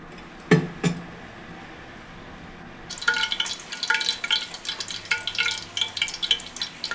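Mustard, cumin and fenugreek seeds splutter in hot oil in a pan, with a couple of sharp clinks at first, then a steady crackling sizzle of pops close by, no talking.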